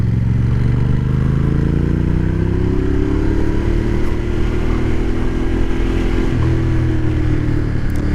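A 2013 Ducati Diavel motorcycle rides a loose gravel road with its engine droning loud and steady throughout, gear changes shifting the tone, and faint crunching and clatter underneath.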